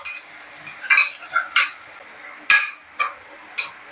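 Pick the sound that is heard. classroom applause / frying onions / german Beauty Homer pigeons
frying onions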